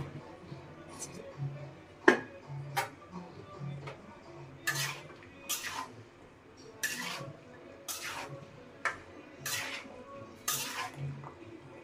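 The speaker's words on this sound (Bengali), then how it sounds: "এবারে যে কচুরমুখী আর কলা একসাথে কষানো দিয়ে দিলাম।" Taro roots and raw banana are sautéed with shrimp in a pot, with repeated clanks and scrapes of a spoon against metal, close, under a low background hum and a voice speaking at times.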